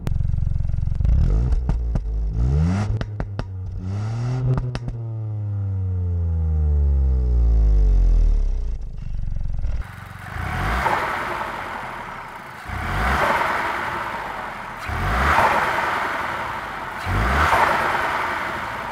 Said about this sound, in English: the exhaust on the Puma ST isn't quite as boisterous as that on the Fiesta